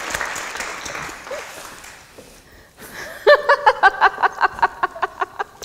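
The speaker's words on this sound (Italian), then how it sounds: "Un applauso a Luigia, forte, forte, così lo sentirà sicuramente." A theatre audience at a Stropula Cantieri Teatrali show applauds for Luigia, the clapping strong at first and fading out, followed by a run of loud, evenly spaced rhythmic bursts.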